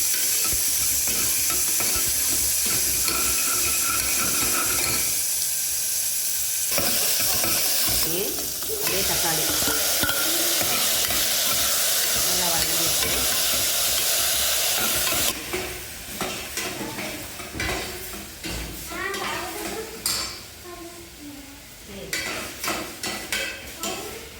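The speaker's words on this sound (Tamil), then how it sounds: "அடுத்து பெரிய வெங்காயம் வெங்காயம் வதக்கிட்டு இருக்கு" Large onion and chillies sauté in a hot pan, a steady loud sizzle running throughout, joined later by frequent scraping stirs and clattering strokes of a spatula.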